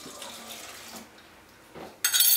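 Water-based solution poured into a mixture of oil and beeswax while making homemade chamois cream, a running, splashing pour that is steady at first, briefly dips, then swells loud and bright at the end.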